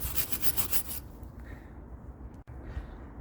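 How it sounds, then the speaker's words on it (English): A metal scraper rasps rust off a wrought iron railing, a loud rough scraping burst in the first second followed by quieter, duller rubbing strokes close by. "we'll get the scraper into them"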